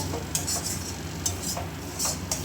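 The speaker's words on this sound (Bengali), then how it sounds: "এটা আস্তে আস্তে এরকম করে অনেকটা করে ফ্রাই করে নিতে হবে।" A spatula stirs and fries a spiced filling in a wok, with several quick metallic scrapes and clinks in a loose rhythm, close and moderately loud under a soft background hiss.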